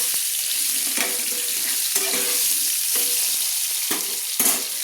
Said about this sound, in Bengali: আমি আলুগুলো ভেজে নেওয়ার জন্য লাল লাল করে আমি নেড়ে নিচ্ছি।